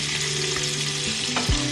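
Onions sautéing in flavored olive oil after linguiça was cooked in the pan give a steady, close sizzle, with a brief scrape of stirring near the end and no talking.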